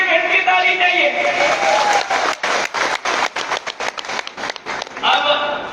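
A crowd at a public ground-breaking and foundation-stone event in Bhind breaks into loud, rippling applause with a rhythmic clapping burst, while someone speaks over it through a loudspeaker.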